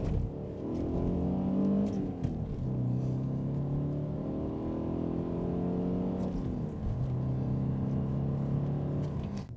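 A 1988 Mitsubishi Galant Sapporo engine pulls up through the gears from inside the car, its steady drone rising in pitch, dropping at each shift and climbing again, loud and continuous with no talk over it.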